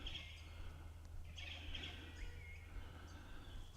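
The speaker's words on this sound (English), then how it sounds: "It's just birds." Birds call in short chirping bursts at a distance, a few repeated phrases over a quiet, low outdoor rumble.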